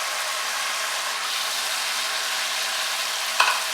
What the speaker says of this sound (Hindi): अब इसमें कीमा डालेंगे